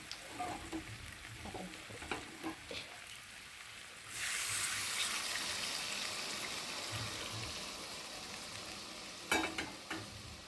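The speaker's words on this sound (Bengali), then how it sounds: "এবার চিকেনের মধ্যে গরম জলটা দিয়ে দেবো।" Frying chicken in a pan, first quiet sizzling with occasional stirring clicks, then hot water poured in, bursting into a loud, steady hiss that carries on to the end, with a few knocks near the close and no talking.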